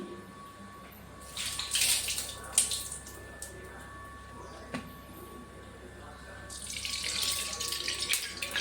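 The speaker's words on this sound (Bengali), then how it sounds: "হাতটা ধুয়ে নিই।" Tap water runs into a kitchen sink as hands are washed, a steady hiss that swells in two bursts with a faint hum behind it.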